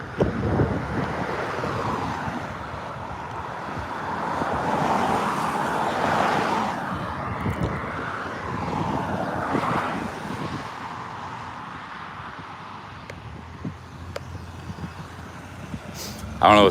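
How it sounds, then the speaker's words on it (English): Cars pass and traffic rumbles at a street crossing while someone waits for the light, with wind buffeting the microphone and a voice speaking at times. "A lot of traffic."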